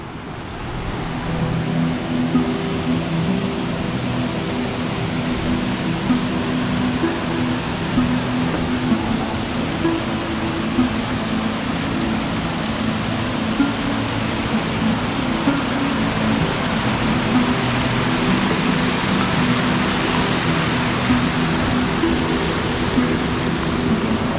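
A waterfall pours nearby, producing a loud, unbroken rushing roar that stays even throughout, with no speech over it.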